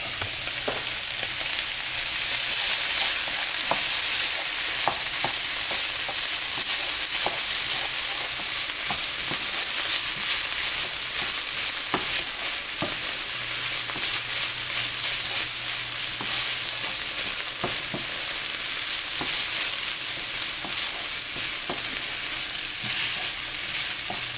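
Onions and tomato paste fry in a pan for sausage roll filling, a loud, steady hiss and crackle with occasional stirring scrapes, close up and without speech.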